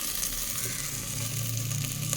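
Sliced onions fry in a pan for an egg and drumstick curry, giving a steady close sizzling hiss with a low hum underneath, continuous and without pause.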